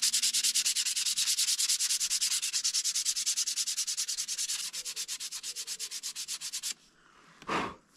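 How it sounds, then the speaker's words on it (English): Hand sanding a wooden mallet: a rapid, even back-and-forth rasp of abrasive on wood, close and steady, slowing slightly before stopping, followed by a brief soft knock. "So when I'm doing the final sanding,"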